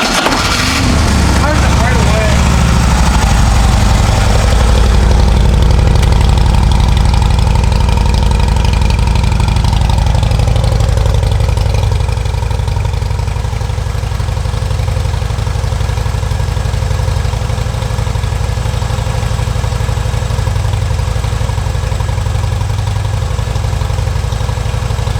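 A Harley-Davidson Road King motorcycle engine fires up and settles into a loud, steady, deep idle that carries on for the rest of the stretch, heard up close with a person talking over it.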